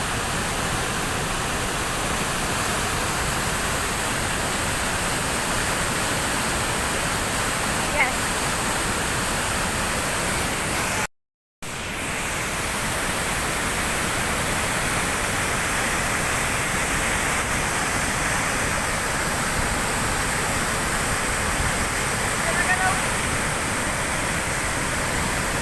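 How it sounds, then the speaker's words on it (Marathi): A waterfall pours forcefully with a steady, dense roar of falling water that fills the scene, loud and close, running unbroken apart from one brief cut. "वाव, किती जोरात पाणी पडतंय."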